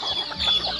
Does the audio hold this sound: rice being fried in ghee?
no